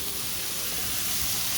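Chopped vegetables sizzle in a hot pan while rigatoni pie is being made, giving a steady, close, fairly quiet hiss with no talking over it.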